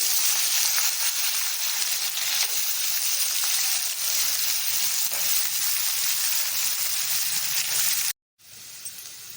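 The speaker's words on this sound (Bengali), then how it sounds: "তেল গরম হয়ে গেল গোটা গরম মশলা ছেড়ে দিচ্ছি হলো এবারে সবজিগুলো দিচ্ছি" Vegetables sizzle in hot white oil with whole garam masala spices, a steady close hiss with faint clinks of utensils, broken by a brief silent cut near the end before the frying resumes.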